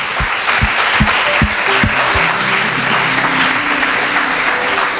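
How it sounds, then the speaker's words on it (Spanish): A church congregation breaks into steady applause, dense clapping filling the room with sustained musical tones from instruments or keyboard underneath and a few low thumps at the start. "Den un aplauso a Dios"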